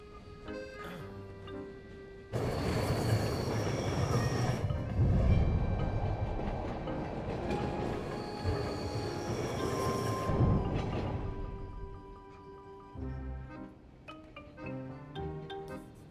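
Passenger train running along the rails, a loud rumbling roar that swells in the middle and then eases, with rhythmic clatter heard close inside the carriage alongside music-like tones and no talk.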